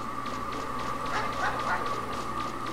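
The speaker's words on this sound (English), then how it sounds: "God, these dogs!" Dogs in the Mega Man Legends video game bark in a repeated, evenly spaced pattern, fairly faint under a steady electronic game hum.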